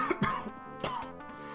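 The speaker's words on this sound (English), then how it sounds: "I'm sorry, my cough." A person coughs twice, close and fairly loud, with short throaty bursts separated by a brief pause.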